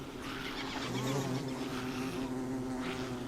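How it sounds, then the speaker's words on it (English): Close, continuous buzzing of bees in Don't Starve, a droning hum that wavers in pitch and stays steady throughout. "you can hear, like, the bees and the spiders right now"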